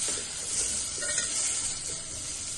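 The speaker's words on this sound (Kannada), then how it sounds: "ಇದಕ್ಕೆ ಟೊಮ್ಯಾಟೊನೂ ಹಾಕ್ಕೊಂಡು ಸ್ವಲ್ಪ ಅವನ್ನ ಸ್ವಲ್ಪ ಡೀಪ್ ಫ್ರೈ ಮಾಡ್ಕೋಬೇಕು." Onions and tomatoes frying in oil in a pan for an onion chutney give a steady, close sizzle with stirring throughout, dense and continuous with no voices.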